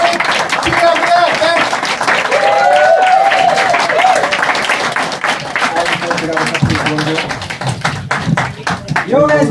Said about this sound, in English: Give yourselves a Greek round of applause.